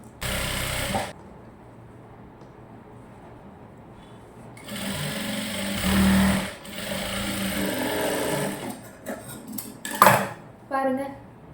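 A sewing machine runs in short bursts while stitching a folded, triple-turned hem on a short gown's puff sleeve, with quiet pauses and handling between runs and someone talking throughout.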